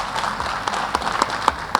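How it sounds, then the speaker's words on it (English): A seminar audience applauds, a moderate burst of clapping from a small crowd with a few sharper individual claps standing out near the end, steady throughout and fairly close. "Let's give him a round of applause."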